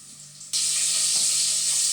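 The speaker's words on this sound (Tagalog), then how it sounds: "Tingnan natin, niluluto natin." Food cooking in a pan with a sudden loud sizzle that jumps in after a quiet start and then holds as a steady close hiss of frying.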